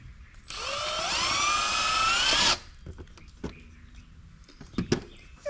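A power drill drives a self-tapping screw into a 48V Venom Motorsports Motec 1600W electric dirt bike, whining loud and close for about two seconds as its pitch climbs, then stopping, followed by clicks and handling knocks.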